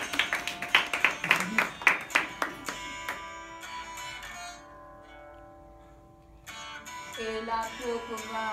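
Rhythmic clapping at an amateur theatre workshop performance, a quick run of crisp, evenly spaced claps that stops after a few seconds, followed by sustained singing voices.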